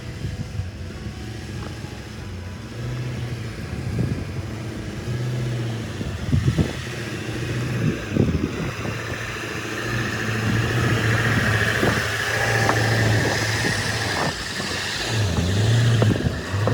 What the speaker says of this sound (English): I just kept her in 4 low, idled our way to the top of the hill without any issues.